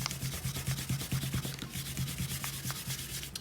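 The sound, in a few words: eraser rubbing out pencil construction lines on paper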